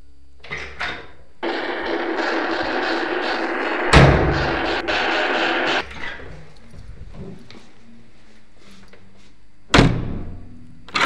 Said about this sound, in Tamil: டக்குன்னு கதவு அறை முழுக்க பலமா அடிக்கிற சத்தம் கேக்குது